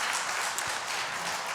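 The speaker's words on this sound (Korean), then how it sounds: "박수를 치시려면 확실하게 쳐주세요." A church congregation applauding the worship choir during a Sunday praise service, a dense, even wash of clapping throughout that sounds fairly distant and moderately loud.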